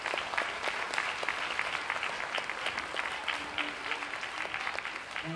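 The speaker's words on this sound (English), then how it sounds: "can you give them a massive big round of applause?" Audience applause for the music teachers at a primary school instrumental concert: dense, steady clapping from a sizeable crowd that holds at an even level for the whole stretch.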